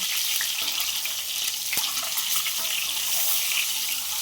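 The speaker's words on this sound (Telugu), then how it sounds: "దీంట్లో కొద్దిగా పసుపు వేసుకొని ఫ్రై చేసుకోవాలి." Eggs fry with turmeric in a pan, giving a steady, close, bright sizzle with small pops and crackles throughout and no talk.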